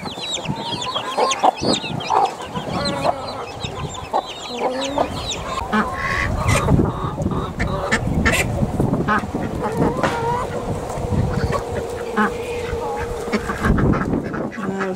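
Chickens and ducks at a rowan berry feed trial, with clucking and quacking throughout, busy and fairly close, some bird calls overlapping in a steady farmyard chorus.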